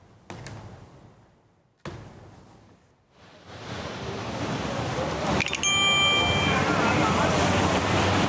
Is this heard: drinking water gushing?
yes